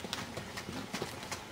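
Horse hooves clip-clop in a steady rhythm of distinct beats during a dressage session, moderately close with faint background noise.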